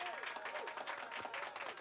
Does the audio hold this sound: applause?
yes